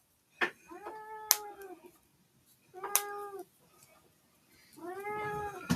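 A pet cat named Tucker meows three times, each call drawn out and plaintive, fairly close in a quiet kitchen.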